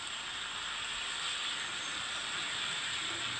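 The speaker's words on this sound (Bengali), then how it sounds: "আর এদিক থেকে দেখুন ঝিঙেগুলো ভাজা হয়ে এসছে।" Ridge gourd and potatoes frying in a pan, giving a steady, even sizzling hiss that holds at a constant level, close and without pauses.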